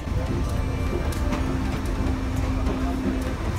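A passenger train in Sri Lanka rumbles steadily along, with low rolling noise, a faint hum and scattered clicks and rattles from the cars.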